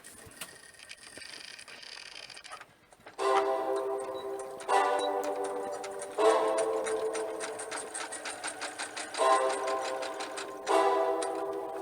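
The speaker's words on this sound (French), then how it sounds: "Moi, je vais utiliser ma machine à coudre." A domestic sewing machine stitches a small seam on miniature fabric crafts, running in several rapid rhythmic bursts separated by short pauses, close and alone after a quieter start.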